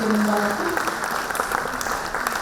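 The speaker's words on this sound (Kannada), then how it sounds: "ದಯವಿಟ್ಟು ಎಲ್ಲರೂ ಕೂಡ ಚಪ್ಪಾಳೆ ಮೂಲಕ ಇನ್ನೊಂದು ಸರಿ ಅವರನ್ನು" Audience applause in an auditorium at the Karnataka Bhushana 2025 award ceremony held by the Karnataka Media Club: sustained, dense clapping that stays steady for the whole stretch, with a voice briefly audible at the start.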